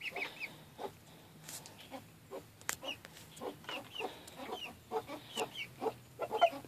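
Chickens cluck intermittently nearby, short scattered calls and soft murmurs over a quiet background, with no talking.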